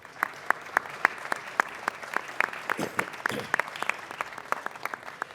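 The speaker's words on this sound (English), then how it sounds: "Let's give them a round of applause." Audience applause at a Los Angeles City Council presentation honoring GHFC leadership, steady overlapping clapping from a moderately sized crowd in a chamber, sustained for several seconds at even loudness.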